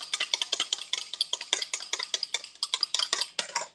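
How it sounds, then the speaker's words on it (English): A fork beats eggs in a cup, a fast, even run of close, bright clinking taps, about five or six per second, loud and continuous with no talk. "beat eggs in with a fork to make scrambled eggs"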